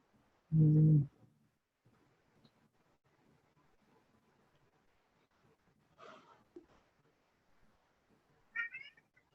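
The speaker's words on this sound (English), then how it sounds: "Yeah, I heard the cat." A cat gives one loud meow at the start, then softer, brief mews follow later against a quiet room.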